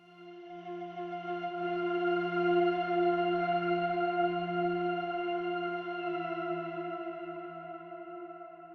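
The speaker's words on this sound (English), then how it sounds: "I've basically put the reverb up to full to make it sound more dramatic" A single sustained synthesizer tone with rich harmonics swells up and holds, washed in heavy reverb, then slowly fades; no voices.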